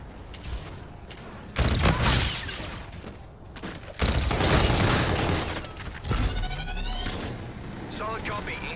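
Gunfire in Call of Duty Infinite Warfare, with the REK weapon: heavy bursts of shots and booms come in several loud waves over steady battle noise, mixed with mechanical clanks and creaks.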